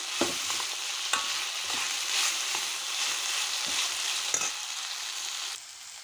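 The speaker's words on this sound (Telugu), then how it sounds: "కొబ్బరి కూడా ఇందులోకి వేసి వేయించేస్తాను" Steady hissing sizzle of grated coconut frying in a pan, broken by several sharp scraping stirs of a spatula, close and fairly loud.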